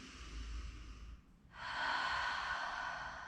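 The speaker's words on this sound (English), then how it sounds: "And breathing deeply in and out through the nose." Deep breathing through the nose during a yoga session: a soft inhale, a brief pause, then a longer, louder airy exhale, close and alone with no talking.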